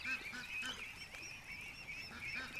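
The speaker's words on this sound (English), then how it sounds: "The goslings are coming in the yard." Goslings in a farm yard give a steady run of close, high honking peeps, calling over and over with short gaps.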